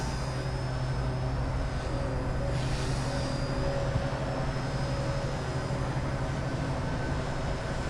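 An XK K110s collective-pitch micro RC helicopter, well worn and on a weak battery, flies outdoors on a windy day, giving a steady, continuous whirring hum with a faint high whine riding over broad wind and motor noise throughout.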